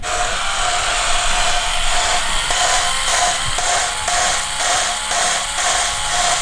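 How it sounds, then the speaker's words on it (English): A steady, high-pitched electric drill whir runs throughout with a faint rhythmic pulsing, close and fairly loud, with no voices; the drill spins to lap an engine valve. "I'm gonna cheat and use a drill."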